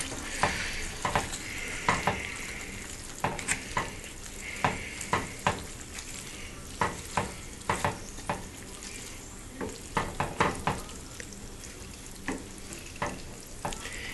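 Spaghetti being stirred in a pan with butter and chopped basil, giving a steady run of soft, close scraping and clicking strokes over a faint sizzle, with no talking.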